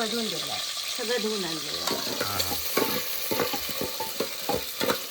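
Spices temper in hot oil on a wood-fired stove for Kolhapuri-style mutton paya soup, with close sizzling and frying and repeated clattering stirs. A voice talks over the opening.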